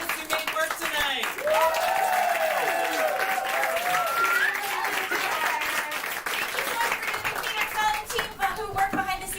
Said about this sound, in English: Can I big round of applause for all the artists who made work tonight?